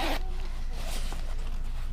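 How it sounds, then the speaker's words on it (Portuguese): A zipper on the sleeve end of a Forza Summer or Manghen motorcycle jacket, one quick close zipping rasp at the start, then a faint rubbing hum. "E o final da manga com zíper."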